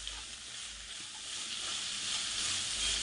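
Onions sizzling in a pan with coarse salt added, a steady close frying hiss that swells slightly toward the end, with no voices.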